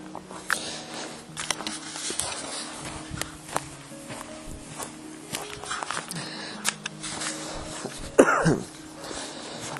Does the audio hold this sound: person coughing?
yes